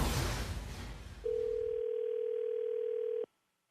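A landline telephone dial tone before a prank call on a morning radio show: a steady, clean, unbroken tone that starts after a stretch of noisy rumble, holds for about two seconds, then cuts off abruptly into silence.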